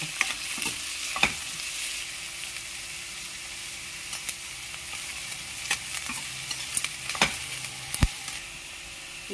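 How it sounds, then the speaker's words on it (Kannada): Onions frying in a pan for a ridge gourd stir-fry give a steady, soft sizzle with occasional sharp scrapes and clicks of a stirring spoon scattered throughout, close by and without speech. "ಈರುಳ್ಳಿ ಚೆನ್ನಾಗಿ ಫ್ರೈ ಆಗಿದೆ"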